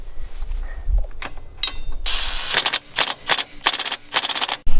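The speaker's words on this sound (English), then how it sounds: "grab your 13mm socket, and if you have an impact gun, go ahead and start tightening it" Impact gun with a 13mm socket tightening wheel bolts on a Lexus GX470 rim with a protection ring, several sharp rattling bursts in quick succession after a few clanks, close and loud.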